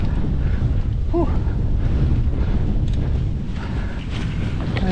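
Wind gusts buffet the microphone atop a hill during a 60 km mountain bike ride near Ath, Belgium, a dense low rumbling roar that stays loud and steady throughout.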